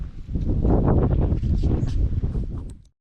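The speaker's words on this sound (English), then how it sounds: "this wind's getting crazy today." Strong wind gusting outdoors on an Oklahoma farm, a loud rushing roar against the microphone for about three seconds before dropping away abruptly.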